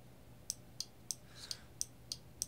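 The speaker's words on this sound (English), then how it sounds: "you have to rotate this until you see this clicking" Potentiometer on an Arduino sound sensor module clicking as it is rotated, seven sharp, evenly spaced ticks, close but faint over a quiet background.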